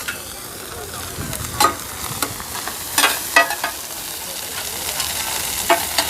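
Eggs fry in a giant pan with a constant loud sizzle, broken by scattered sharp pops and crackles.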